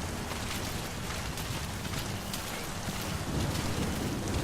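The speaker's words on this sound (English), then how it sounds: "The rain effects were great." Steady, dense rain from the video game Metal Gear Solid V pours without a break, a loud broadband hiss of drops with a low rumble beneath and no voices.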